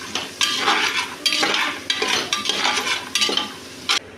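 Cashews are stirred in a pan as they fry with ginger garlic paste. Repeated scraping strokes with a spoon come in a steady rhythm over a soft sizzle, close and fairly loud, with no talking.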